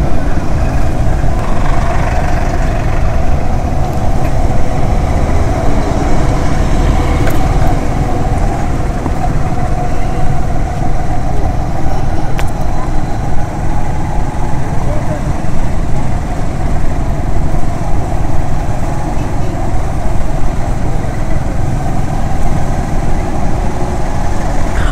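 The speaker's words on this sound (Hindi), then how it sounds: "ये ट्रैफिक देख लीजिए, अभी तक ट्रैफिक ख़त्म नहीं हुआ, काफ़ी आगे तक ये ट्रैफिक है।" Dense traffic jam on the Mahatma Gandhi Setu bridge over the Ganga in Patna, a steady low rumble of idling car and truck engines filling the whole stretch without letup.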